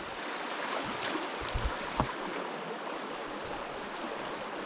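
A mountain creek in the Yukon flows steadily near a tent, a continuous soft wash of running water with a few faint bumps and no talking.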